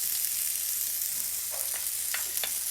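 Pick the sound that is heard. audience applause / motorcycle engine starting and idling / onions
onions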